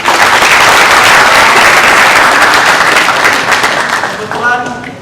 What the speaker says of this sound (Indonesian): Beri tepuk tangan buat mereka.